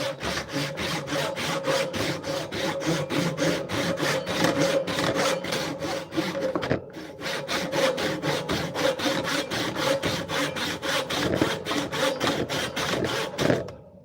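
A wood chisel pares off excess from a butcher block mallet in rapid, rhythmic rasping strokes, close and steady, with a brief pause midway.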